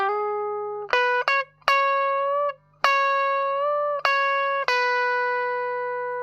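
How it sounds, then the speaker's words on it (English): Rockabilly finger-picked electric guitar lick, a string of clean single notes with a quick hammer-on and a quick slide, played close and clear with no talking. "Here I'm playing a quick hammer on and then a quick slide."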